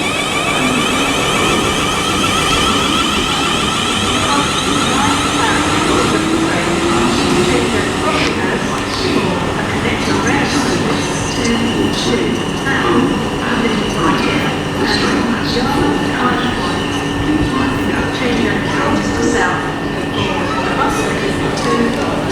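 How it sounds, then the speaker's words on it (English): A South Western Railway train pulls out of Southampton Central bound for Weymouth, its traction motors rising in pitch as it gathers speed, with rumbling wheels and a faint squeal close by. Someone talks over it. "departing now is the 1224 South Western Railway service to Weymouth"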